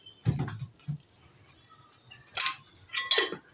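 A spoon clinks against a pan while sugar goes into methi matar malai paneer curry: a low scrape and tap near the start, then two brighter metallic clinks a moment later, close and fairly loud.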